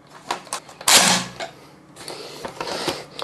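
A four-barrel toy rocket launcher clacks as it is loaded, then fires with a sharp burst, followed by a run of lighter clicks and pops, close and fairly loud.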